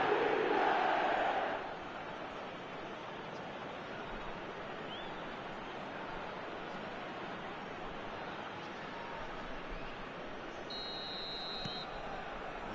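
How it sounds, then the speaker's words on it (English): A football stadium crowd in a video game roars loudly at first, then settles into a steady, distant murmur and hum of massed fans for the rest of the stretch. "there's a real sense that the momentum has shifted here, Peter, and the crowd are reacting to that now"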